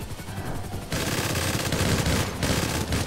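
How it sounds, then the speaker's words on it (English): An Uzi fired in the video game GTA Online, sounding as a quiet stretch followed by loud, sustained, rapid automatic bursts that keep rattling to the end, with no talk. "Castle's got a Uzi."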